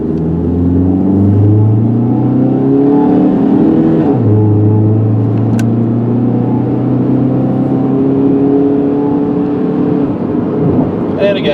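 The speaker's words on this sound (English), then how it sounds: "I'm gonna accelerate pretty hard so you guys can see it shift nice and smoothly through all the gears" A silver 2005 Chrysler PT Cruiser SE accelerates hard from inside the cabin, engine tone climbing and dropping as it shifts up through the gears, a steady loud drone with a clear gear change partway through.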